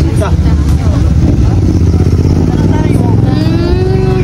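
Motorcycle engines rumble loudly close by, with people talking over the noise, in Ozamiz City, Misamis Occidental, Philippines.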